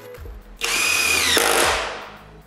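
A power drill drives a screw into wooden soffit pieces: one close, loud whirring burst of about a second and a half that rises, holds, then winds down.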